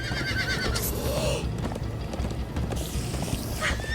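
Horses galloping and neighing in the video game Minecraft: Story Mode, with steady hoof clatter running under a busy mix and a whinny rising near the start and again near the end.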